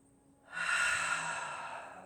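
One deep, slow inhale during a gentle yoga session, a breathy hiss that starts after a short pause, swells quickly and then tapers off over about a second and a half, close and clear.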